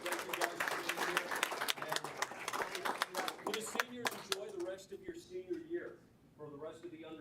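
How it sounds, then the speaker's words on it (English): An audience at a city council meeting claps in a dense, steady round of applause that tapers off near the end, with voices heard under it. "One more big round of applause"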